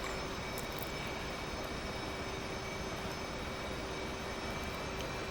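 An F/A-18C jet engine runs steadily in the DCS flight simulator on a carrier deck, a broad, constant roar with a faint high whine and no change in level.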